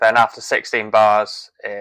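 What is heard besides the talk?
No everyday noises stand out.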